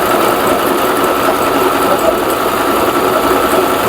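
A Butterfly sewing machine, a Vietnamese-made model, runs loud and close while sewing a zigzag design, a steady unbroken motor whir with rapid needle chatter throughout.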